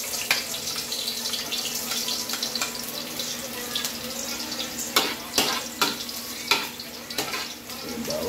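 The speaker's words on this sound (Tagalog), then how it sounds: "Pag mainit na yung mantiga, guys, lagay yung bawang." Garlic dropped into hot cooking oil, a soft, continuous sizzle in a home kitchen, with a few louder sharp pops and clatters near the end.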